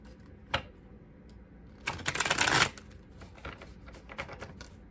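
Tarot cards are shuffled close by: a single quick riffle burst in the middle, with scattered soft taps and card clicks before and after, in an otherwise quiet room.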